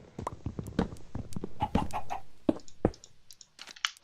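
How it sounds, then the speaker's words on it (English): Chickens in the video game Minecraft cluck in a string of short, repeated calls, some overlapping, as they pour out through an open gate; the clucks are moderately close and stand alone with no talk. "And the chickens are getting out, oh well."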